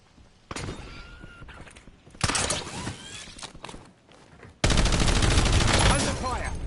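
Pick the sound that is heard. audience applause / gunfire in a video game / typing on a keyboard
gunfire in a video game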